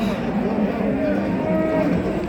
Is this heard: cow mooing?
yes